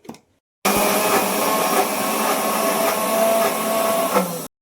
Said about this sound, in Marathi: त्यामध्ये मी दोन तीन मिरच्या थोडीशी आलं घालून आपण त्याची पेस्ट तयार करून घेऊया